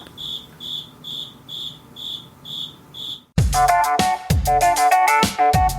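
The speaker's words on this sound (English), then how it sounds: "sorry, stupid cricket, man. I don't know where it is, or I'd go kill it, but can you hear this?" An indoor cricket chirps in regular pulsed trills, about eight evenly spaced bursts, fairly loud and close, before it is cut off by a sudden run of louder electronic tones.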